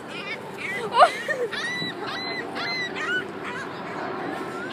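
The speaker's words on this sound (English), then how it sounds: "There's all these seagulls." Seagulls call in short honking cries at a waterside spot while people eat lunch nearby, heard at moderate distance under a steady outdoor background, with a person talking.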